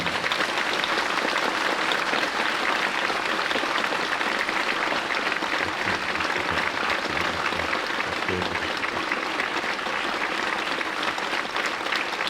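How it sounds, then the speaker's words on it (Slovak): Steady, strong audience applause fills the hall at a charity award event, a dense continuous clapping that stays loud and even throughout. "dajme taký silný potlesk pre nášho Denisa."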